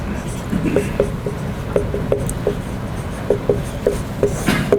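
A lecturer writing on a board during a stochastic control lecture: a steady run of short chalk or marker taps and scratches in an irregular rhythm, moderately close, with faint room noise.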